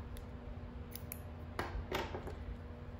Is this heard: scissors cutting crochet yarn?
yes